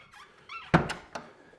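A house door opens in a quiet home during puppy house training: a sharp thunk with a brief squeak, followed by two smaller knocks, close and moderately loud.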